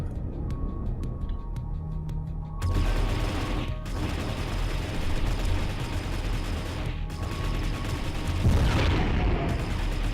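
A missile launches from a bomber craft during space combat in Outer Rim: Survivor, heard as a sustained roaring whoosh with booming bursts and a rising swell near the end, loud and continuous without speech.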